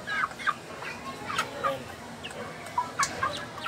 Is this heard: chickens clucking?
yes